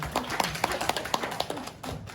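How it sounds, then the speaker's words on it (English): An audience at a Saemaul Undong seminar claps in a series of sharp, spaced claps that build with more force, a lively patter close by, with no speech. "Thank you so much for clapping me"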